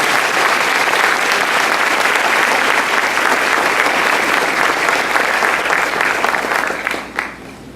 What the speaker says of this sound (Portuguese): Aplauda ele nesse lugar.